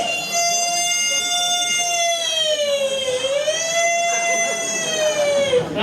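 An ambulance siren wails steadily and loudly nearby, its pitch dipping briefly mid-way before holding again, with faint voices underneath.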